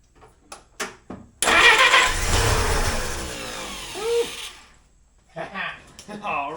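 Willys engine cranking over on its first start, a loud sustained churning burst lasting about three seconds after a few short clicks and knocks, followed by quieter clunks and brief voices.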